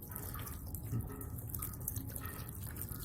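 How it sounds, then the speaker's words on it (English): Beef broth poured into a foil pan holding smoked beef cheeks, a close, steady liquid splash and gurgle running throughout without speech. "maybe 1 inch of beef broth on the bottom of this foil pan."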